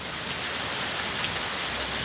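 Steady, dense rain from a pop-up storm in Virginia hisses evenly throughout, a broad wash of drops with no voices or distinct thunder.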